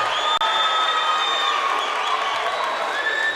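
Home crowd at a high school boys' basketball game in York roaring and cheering after a hustle steal, a loud, sustained mass of cheers, whoops and applause filling the gym with no break.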